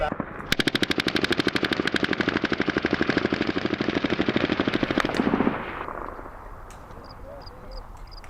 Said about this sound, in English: they're just walking down the alley shooting at nothing